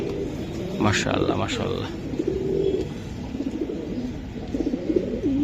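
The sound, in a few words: racing pigeons cooing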